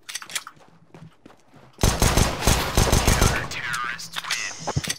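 Rapid video game gunfire bursts out loud after a quieter stretch, sustained automatic shots rattling on for several seconds with a whooshing effect near the end.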